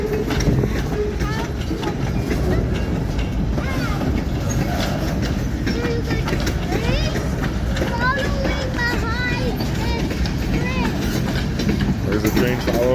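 Freight train from the second part of a long consist passing close by, with steady rumbling wheels and rhythmic clickety-clack over rail joints, metallic squeals and creaks rising over the continuous roar.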